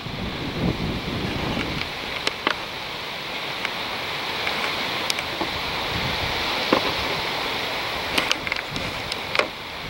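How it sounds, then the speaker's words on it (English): Outdoor wind gusting among trees makes a steady broadband rush with microphone buffeting, and scattered sharp clicks and knocks sound nearby. "the wind's starting to come up"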